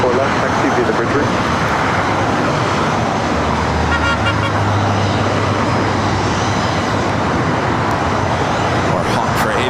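A Boeing 737-700 jet at LAX airport, a loud, steady roar of engine noise filling the whole span, with a low hum rising briefly midway.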